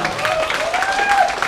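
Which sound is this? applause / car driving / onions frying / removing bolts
applause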